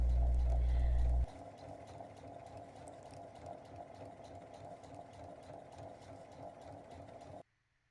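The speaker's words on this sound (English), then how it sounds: "Position the fabric under the presser foot, sew along the length of the zipper tape." A sewing machine stitching along zipper tape on fabric, its motor whirring in a steady, even buzz for several seconds before it stops abruptly, after a short louder thump at the start.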